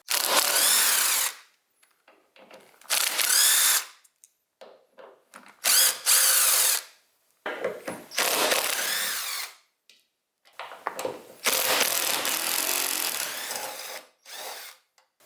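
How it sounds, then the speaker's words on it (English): A power drill backs out T40 bolts while a light bar mounting is prepped. The motor whirs loudly in close bursts of a second or two, separated by pauses and ending with shorter runs. "we're going to go ahead and remove these 5 bolts right now."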